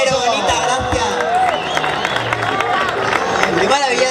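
A studio audience claps and cheers after a singer's performance on a Seville radio variety show, a dense, steady wash of crowd noise with voices and chatter layered over it throughout.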